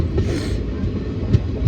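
A moving train rumbles steadily and low from inside a passenger carriage, a continuous droning hum with faint rhythmic throbbing and no talk.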